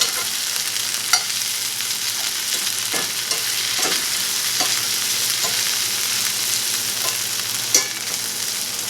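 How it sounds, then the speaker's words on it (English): Boiled potatoes browning in a frying pan sizzle steadily while being stirred around, with a few sharp scraping clicks from the utensil standing out over the continuous fry; no voices. "our potatoes are browning now, so we're going to just kind of stir them around"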